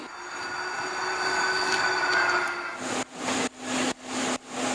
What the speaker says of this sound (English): I recorded just a bunch of stuff on my phone. And wanted to see if I could build a track around those train sounds